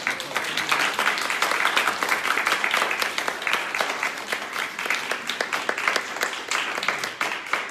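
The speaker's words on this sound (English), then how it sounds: "So let's please give another round of applause for" An audience at a live-streamed event claps in a steady, fairly loud round of applause lasting several seconds, individual claps crisp and close, with no talking over it.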